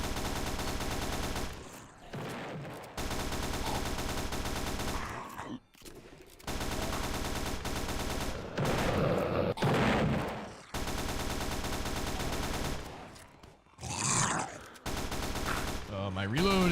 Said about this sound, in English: the mortar is really putting in work now